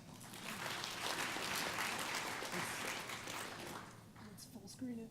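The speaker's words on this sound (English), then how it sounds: "Adam a round of applause." A tech conference crowd claps for a lightning talk speaker, steady mid-level applause that fades out, with a voice starting to talk near the end.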